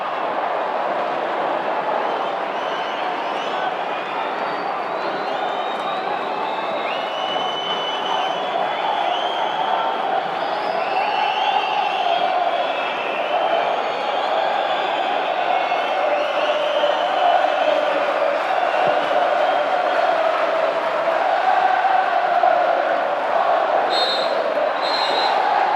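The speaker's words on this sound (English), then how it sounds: "the Grimsby Town fans stand and applaud their team" Grimsby Town football fans fill a stadium with sustained crowd noise, cheering and applause at the end of normal time against Liverpool in a Worthington Cup tie, a loud continuous roar with occasional whoops.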